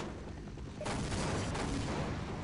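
Grenade explosions and gunfire in the Half-Life game: a quieter rumble gives way to a sudden loud burst, then sustained rattling shots and booms that stay heavy to the end, without speech.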